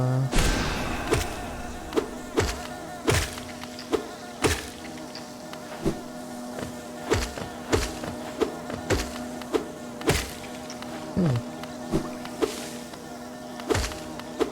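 Steady insect-like buzzing of bees fills a video game scene in the City of Tears, with regular sharp thumps and clicks cutting through at intervals.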